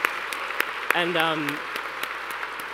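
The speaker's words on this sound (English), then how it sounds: "can we get another round of applause" Applause from an audience at an awards ceremony in New York, steady clapping with sharp individual claps, briefly overlaid by someone speaking.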